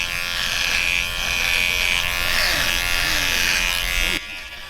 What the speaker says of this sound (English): shape up his goatee. I usually like to do this with a trimmer.